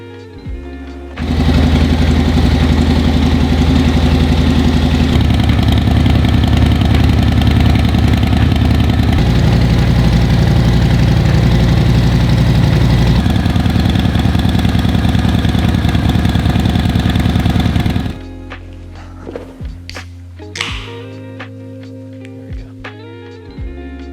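A 2023 Harley-Davidson Low Rider S starts up and idles with a loud, steady, throbbing V-twin rumble for about seventeen seconds, then shuts off, leaving quieter handling sounds.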